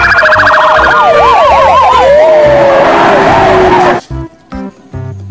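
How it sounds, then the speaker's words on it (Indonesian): A toy ambulance's electronic siren wails loudly and close, sweeping up and down in rapid cycles before cutting off abruptly, followed by quieter clicking and handling noises from the toy trucks. "Lihat teman-teman, ini mobil ambulans."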